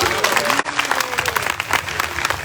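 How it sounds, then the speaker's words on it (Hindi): An audience at an evening harikatha gathering in Jagannath Puri breaks into loud, dense clapping and crowd noise that carries on steadily throughout. "उनके लिए एक बार जोर से ताली बजाई जाए।"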